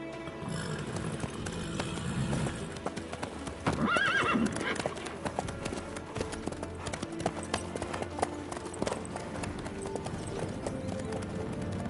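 Horse hooves clip-clop steadily in The Witcher 3 video game, a continuous rhythmic trotting with a whinny partway through, under intermittent talk.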